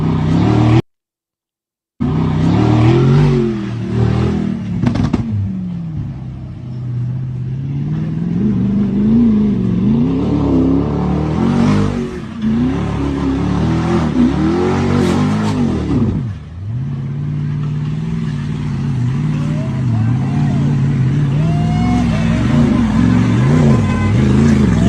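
A Mercedes G-Wagon V8 engine driving over rough terrain, loud and close, with the revs rising and falling repeatedly and a continuous rumble throughout; no talking.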